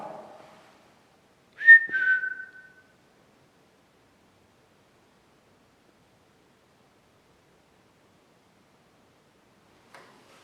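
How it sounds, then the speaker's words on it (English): A short, clear human whistle of two quick pitched notes sliding downward, alone in a near-silent space, with a faint rustle near the start. "If I whistle, can you whistle back?"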